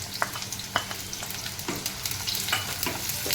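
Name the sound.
chopped onion frying in hot oil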